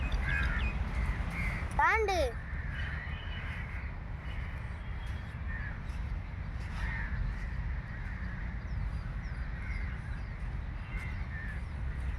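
Crows caw several times at Marina Beach in Chennai, with one cluster of harsh calls standing out early and fainter caws scattered later over a steady rumble of surf and wind, while people talk nearby.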